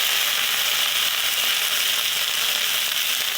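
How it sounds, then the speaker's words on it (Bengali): Lentil fritters (dal bora) frying in oil, a steady loud hiss and sizzle that continues evenly throughout with no voices. "আর আমার মা দেখো ডালের বড়া ভাজছে।"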